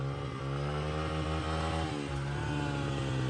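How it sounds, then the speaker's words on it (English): A small pit bike engine drones steadily and close while being ridden, a buzzy, harmonic whine with slight pitch wavers as the throttle shifts, continuous with no talking. "we're on the pit bikes and we're having fun"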